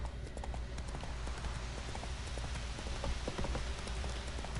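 Roach, the horse in the video game Witcher 3, trots along with steady, rapid clip-clop hoofbeats over a constant low rumble and rain-like hiss, with no talking.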